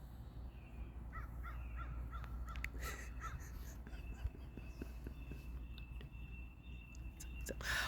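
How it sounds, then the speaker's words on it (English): A crow caws faintly a few times in the distance, mostly buried under a low steady background rumble and soft nearby murmuring. "Oh, the bird chirped. Caw."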